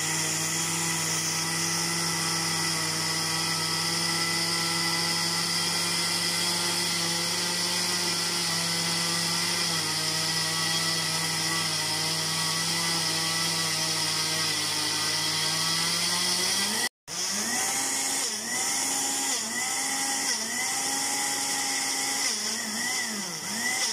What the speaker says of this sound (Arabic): انا مش عايزه ازعجكم بصوت الخلاط